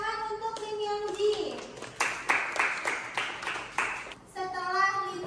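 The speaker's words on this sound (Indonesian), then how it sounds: "Tepuk tangan untuk Lim Yongji" Classroom applause for a student, a brief burst of clapping from several hands lasting a few seconds, close by, with children's voices and a teacher speaking around it.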